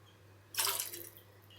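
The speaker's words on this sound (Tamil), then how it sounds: "நான் ஒரு பாத்திரத்தில் 2 கப் அளவுக்கு பால் சேர்த்துக்கிறேன்" Cow's milk poured into a cooking vessel: one close, steady liquid pour lasting about a second, rising abruptly out of a quiet room with a low hum beneath.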